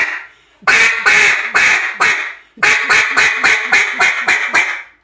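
A Mondo LA duck call blown close and loud: four rapid raspy quacks, a brief gap, then a quick run of about eight shorter quacks in a steady descending rhythm, with no talking.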